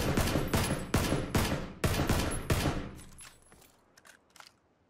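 SCAR rifle fired in single shots in a first-person video game: about eight sharp, loud reports in a steady rhythm with ringing tails, fading to softer distant pops at the end, no talk.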